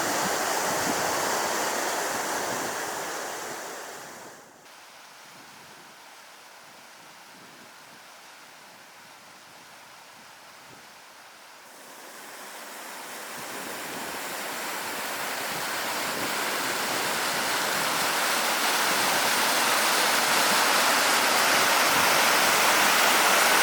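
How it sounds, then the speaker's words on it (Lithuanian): Water rushes over the old Slabada mill dam, a loud continuous roar that drops away briefly to a softer hiss before swelling back stronger and closer. "Tiesą pasakius, srauniau veržėsi vanduo, negu tikėjausi."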